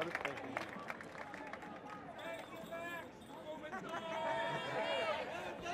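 Outdoor crowd at a US Hands Off Venezuela rally, a steady murmur of many voices and chatter that swells louder toward the end, with scattered calls rising above the babble.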